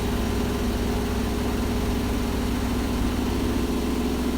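A Hotpoint HE7L492 washing machine on a cotton cycle speeding up its spin toward 1400 RPM, a steady loud mechanical hum and whine that holds continuously with no other sounds.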